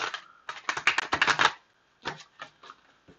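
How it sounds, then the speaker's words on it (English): Tarot cards being shuffled by hand: a quick burst of crisp riffling clicks, a pause, then a few shorter flutters of card noise, close and fairly quiet with no talking. "I'm gonna shuffle it again."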